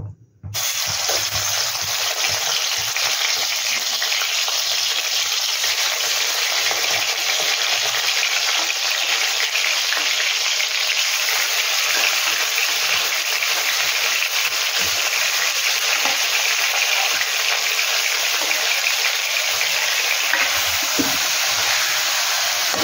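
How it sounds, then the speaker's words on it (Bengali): Chicken pieces, squeezed dry after marinating, frying in hot sunflower oil for black pepper chicken, a loud dense hiss and crackle that holds steady throughout, close up, with no talking. "এবার চিকেনগুলো যেগুলো হচ্ছিল মানে নিংড়ে তুলে নিলাম সেগুলোকে আমি ফ্রাই করব"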